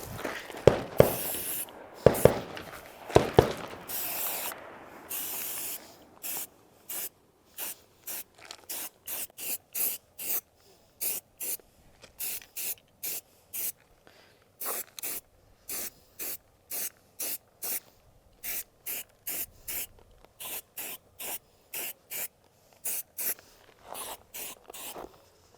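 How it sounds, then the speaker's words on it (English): Tan spray paint hisses from an aerosol can onto a rifle in a long series of short, evenly spaced bursts, close and crisp, after a few longer, louder sprays at the start. "I'm going to go over this a second time and get another coat over of just tan"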